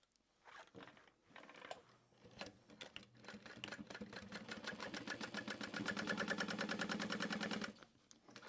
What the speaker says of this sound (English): And then I'm going to sew across the top here.